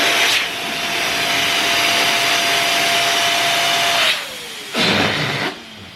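An electric balloon pump inflating a balloon for a balloon garland, a loud steady motor whine with a falling tone, briefly cutting out and then restarting for a short final burst.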